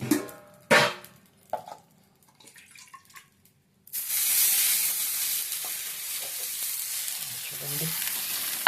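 Pongal is stirred in a pan. After a few knocks and scrapes, a steady sizzling hiss rises and carries on, with faint scraping under it.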